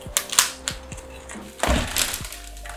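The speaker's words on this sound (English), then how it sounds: "I'm actually gonna cut into the nursery pot and just break open the root system" A blade cuts into a plastic plant nursery pot with sharp, close clicks and snaps, then a louder rough crunch as the plastic splits open.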